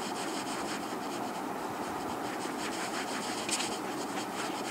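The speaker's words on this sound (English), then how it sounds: "I'm just gonna use my buffing brush and get that on the brush, and I'm gonna rub this in." A makeup buffing brush rubbing HD foundation into skin, a soft continuous swishing with rhythmic scratchy strokes, close and quiet with no talking.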